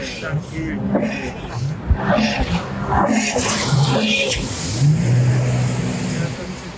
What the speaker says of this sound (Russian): Мимо нас промчався лютий катер з дяденьками.